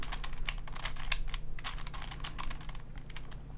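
A Rubik's 2x2x4 cuboid puzzle is turned by hand, giving a quick, irregular run of close plastic clicks and clacks with no voice.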